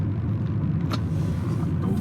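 A 2013 BMW 320i F30 sedan pulls away under throttle, a steady low engine rumble heard from inside the cabin with no talking.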